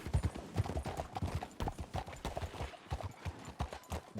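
Hooves clip-clop quickly and steadily as a horse moves outside in a Red Dead Redemption 2 game setting, faint and a little distant, with a voice murmuring faintly.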